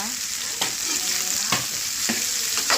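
Okra (bhindi) frying in a pan gives a steady close sizzle, cut by four sharp spatula scrapes against the pan at uneven intervals.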